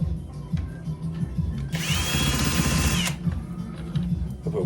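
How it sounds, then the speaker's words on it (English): A power drill backing screws out of a Golden Tee 3D arcade cabinet, whirring steadily for about a second and a half at close range over constant low background noise. "Let's get these screws out of here."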